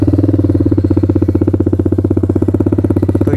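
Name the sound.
TVS Apache RR 310 motorcycle with SC Project exhaust idling in neutral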